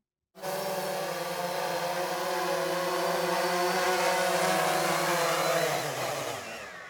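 A quadcopter's steady, buzzing motor whine holds at a constant pitch, then dips and fades out as the rotors spin down on landing at the end.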